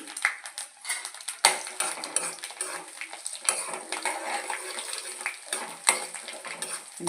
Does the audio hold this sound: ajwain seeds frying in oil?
yes